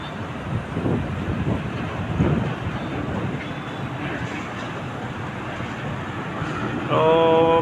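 Strong wind buffets the microphone on a rough seaside shore, a loud rumbling roar with gusty low thumps throughout, with a brief tonal sound rising at the very end.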